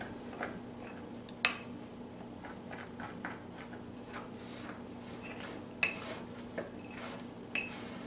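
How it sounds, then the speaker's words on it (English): Spoon scraping and clinking inside a bowl while a homemade copycat Italian salad dressing mix is stirred together, with sporadic light taps and a few sharper clinks over a faint steady hum. "So I'm just going to stir this up together."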